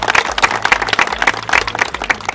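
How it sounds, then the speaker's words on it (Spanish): Applause from a crowd welcoming a senator at a sports equipment donation event in the district of Jayaco, with a brisk, steady patter of many hands clapping close by. "Un aplauso, por favor."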